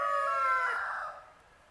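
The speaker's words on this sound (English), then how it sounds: "that's why them chickens are up here, they're pecking away at it" A chicken pecking at seeds lets out a single drawn-out, fairly close call that tapers off into quiet, with no talk.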